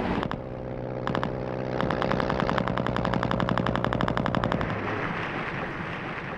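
World War I anti-aircraft guns fire at low-flying bombers in rapid automatic bursts, loud and nearly continuous for several seconds before stopping near the end. No one speaks.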